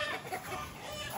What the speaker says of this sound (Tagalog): Ito yung tinali natin bagong manok.